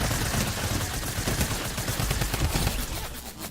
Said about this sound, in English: The Tommy gun is the best gun in the game.